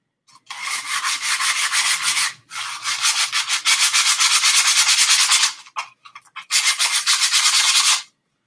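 Heavy-grit sandpaper worked by hand in long, loud, raspy strokes, three sustained bursts of sanding separated by short pauses and a few quick rubs, close up with no talking.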